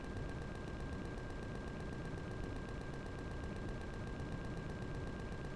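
Steady rapid gunfire in the video game Empyrion Galactic Survival, fired at blocks as an unbroken stream of fast, even shots held at a constant level throughout.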